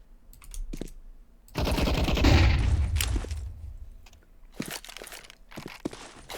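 Counter-Strike 2 gunfire on the El Dorado map: a dense burst of rapid shots in the middle, with scattered sharp single shots and clicks before and after.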